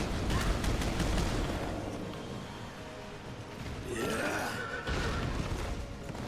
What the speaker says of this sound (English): You can hold L2 to call your horse.